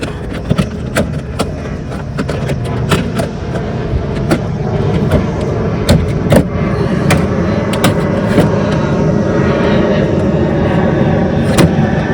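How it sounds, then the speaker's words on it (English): A low, broad engine roar of an airliner on approach to O'Hare passing overhead fills the whole stretch, steady and loud, with scattered clicks and handling sounds nearby. "Apologies for the airplane. Apparently the O'Hare approach path is right above us today."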